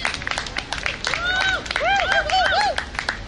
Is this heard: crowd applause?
yes